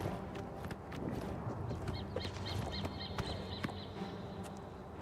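Horse hooves clip-clop steadily in Oblivion Remastered, a regular rhythmic gait at moderate distance over a busy game soundscape with ambient layers.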